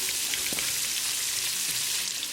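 Onion frying in a pan for a chicken and vegetable stir fry, a dense, continuous sizzle with a couple of soft stirring knocks, heard up close and alone.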